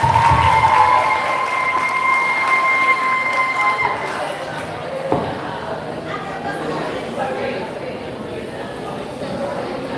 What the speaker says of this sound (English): Give them a round of applause as they enter